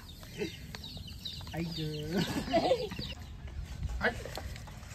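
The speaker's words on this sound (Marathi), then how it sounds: "कोंबडा कोंबडा कोंबडा कोंबडा" A rooster in a village clucks in short, close bursts around the middle, fairly quiet against background noise and a few voices.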